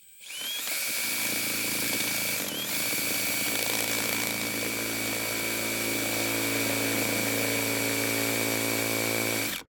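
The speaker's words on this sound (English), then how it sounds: "take this giant step bit and drill out the whole through hull" A power drill with a large step bit drills out a bronze boat through-hull, loud and close for nearly ten seconds, a sustained high whine with grinding, straining briefly near the start before holding steady.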